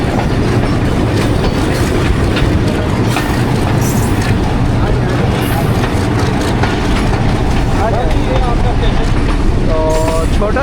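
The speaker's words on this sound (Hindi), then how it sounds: "जनाब नगर स्टेशन धूल मट्टी के साथ एंट्री हुई है।" Millat Express (18 Dn) rolls dustily into the small Chenab Nagar station: a loud, continuous rumble and wheel clatter fills the whole stretch, with a brief metallic squeal near the end and faint voices mixed in.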